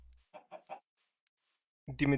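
Three short clucks from Minecraft chickens come in quick succession and sound fairly faint. A voice starts talking after a brief quiet gap.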